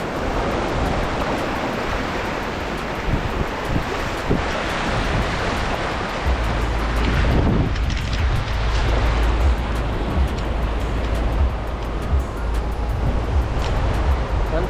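Sea waves roll onto the shore at Ashvem Beach in Goa, a steady, loud broadband wash of surf mixed with wind buffeting the microphone, continuous for the whole stretch with no talking.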